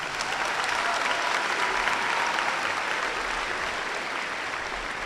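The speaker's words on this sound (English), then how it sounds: "How about a round of applause for Mr." A large crowd applauds at a high school commencement at Lemon Bay, with dense, steady clapping that fills the space at a loud, even level throughout.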